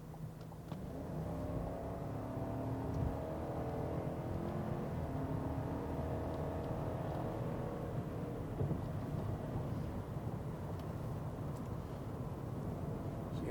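A 2021 Chevy Tahoe or Suburban cruising at highway speed, a steady low road and engine drone with faint tire hum, heard from inside the cabin and with no talking.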